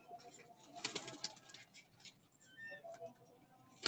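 A pigeon coos softly on a rooftop pigeon loft, faint repeated calls over quiet background with light ticking, fairly distant and low in level.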